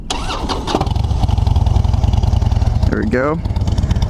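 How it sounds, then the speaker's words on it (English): A 2007 Harley-Davidson Dyna Street Bob with stock exhaust cranks and fires, then settles into a loud, close, lumpy idle rumble; someone speaks briefly over it near the end. "let's go ahead and start this up. Give you a little listen here. It's the stock exhaust"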